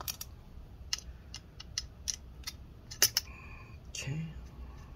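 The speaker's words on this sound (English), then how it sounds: "we're going to remove the two screws from this bracket here." Screws being removed from the hard drive bracket of an HP Pavilion 15 laptop, with a few faint, sharp clicks and creaks of a small screwdriver spaced over a few seconds in a quiet room.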